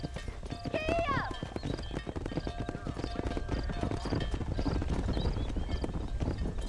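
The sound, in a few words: horse galloping in video game Red Dead Redemption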